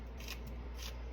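Scissors snip through green onion in a kitchen while making ramen, giving two quick close cuts over a low steady background hum.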